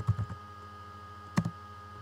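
A few keystrokes on a Mac keyboard as a terminal command is typed: a quick cluster of clicks, a pause, then another pair of taps, close and crisp.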